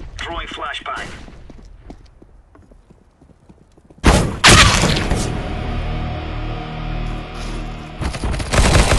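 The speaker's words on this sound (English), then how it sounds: "Throwing flashbang" Footsteps in Counter-Strike on the Mirage map, then a flashbang grenade goes off with a sudden loud blast, followed by a sustained harsh ringing noise that lasts to the end.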